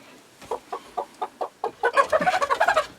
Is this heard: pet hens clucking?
yes